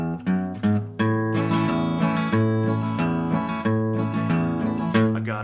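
Guitar plays the introduction to a song with a running bass line, plucked notes ringing and repeating in a steady rhythm, clear and up close with no voices.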